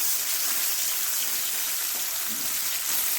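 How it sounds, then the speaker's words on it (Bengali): Chopped medium onion frying in oil with panch phoron five-spice, a steady close sizzle and crackle filling the whole stretch at an even loudness, with no voices. "পেঁয়াজটাকে হালকা করে ভেজে নিলাম।"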